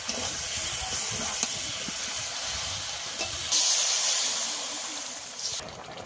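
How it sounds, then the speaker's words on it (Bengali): Prawns stirred and turned in a pan for a Bengali prawn curry, a continuous steamy sizzle and hiss with a few faint scrapes, alone without talk. "এবারে চিংড়ি মাছটা দিয়ে কিছুক্ষণ একটু উল্টো পাল্টা নেড়ে দেবো"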